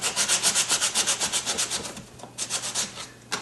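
A sandpaper block is rubbed over a plastic seam during paint prep, making close, rapid, rhythmic back-and-forth rasping strokes that slow briefly, then return with a few final passes.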